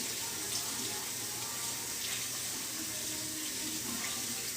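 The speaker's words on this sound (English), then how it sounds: "Wet it and wring it out several times to really get the water clear." Tie-dyed cotton shirt rinsed under a running tap, with a steady broadband rush of water splashing into a sink throughout, fairly close and continuous, with no talk.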